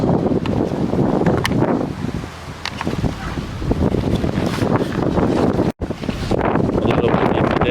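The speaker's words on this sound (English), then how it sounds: "Just a little windy today." Gusts of outdoor wind batter the microphone continuously during a McDonald's Pokemon Happy Meal outing, a loud rumbling roar with one brief dropout near the end and faint talk buried underneath.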